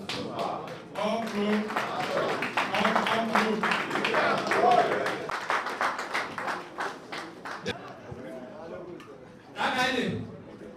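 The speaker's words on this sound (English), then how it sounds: "Clap, oh. Take your certificate. Clap, oh." Audience applause at a swearing-in ceremony for newly elected road transport executives in Ogun State, clapping running steadily under loud talk for most of the stretch, then a fresh burst near the end.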